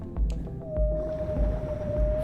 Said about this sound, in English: That's the sound of a baby humpback whale.